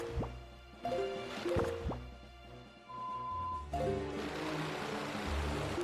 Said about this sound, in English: Swim a little bit this way.